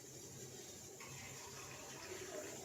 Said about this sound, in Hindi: ये पानी डालेंगे